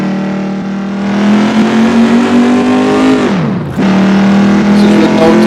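A naturally aspirated car engine with no turbo revving loudly up close, its pitch climbing steadily, dropping sharply for a moment, then rising again in a strong, harmonic-rich roar.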